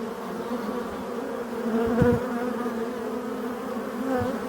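Honey bees flying around their hives in mid-October, a dense continuous buzzing drone with a few louder passes close by, no talk.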